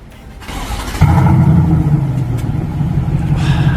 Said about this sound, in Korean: 자, 그럼 시동 소리부터 바로 한번 들어보시겠습니다